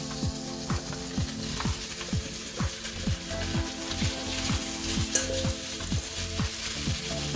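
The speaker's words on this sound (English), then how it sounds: "now the duck fat is sizzling. I'm going to go ahead and add the potatoes into the pan" Duck fat sizzling in a pan as potatoes go in and get tossed, a steady close frying hiss with rhythmic scraping and stirring strokes running throughout, no talk.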